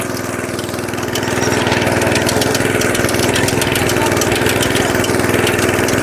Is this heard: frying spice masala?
no